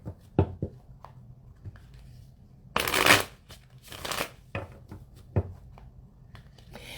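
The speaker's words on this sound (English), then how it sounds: "so let me shuffle." Tarot cards riffled and shuffled in two quick bursts, with light taps and card handling around them, close and fairly quiet.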